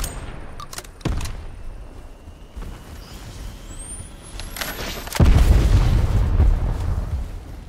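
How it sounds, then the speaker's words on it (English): A grenade explodes in the 2022 shooter game Shatterline: a loud, close boom around five seconds in with a heavy low rumble that lingers, preceded by sharper gunfire cracks, a rising whine and steady battle noise. "Grenade incoming!"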